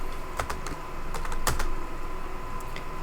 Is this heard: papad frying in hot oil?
no